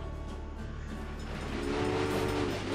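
Train in the video game Railway Empire rolling along with a steady rumble and wheel clatter, a horn-like tone swelling toward the end, heard alone with no talk.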